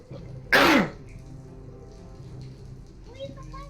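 A person mimics a harsh, phlegmy hacking cough in one loud, sudden burst close to the microphone, followed by quieter room noise and faint voices.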